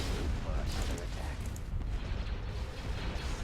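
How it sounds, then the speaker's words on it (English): Booming ion cannon fire from the space strategy game Thrawn's Revenge: Imperial Civil War, a dense, continuous rumble of blasts and explosions with a voice talking over it. "Disable those ion cannons."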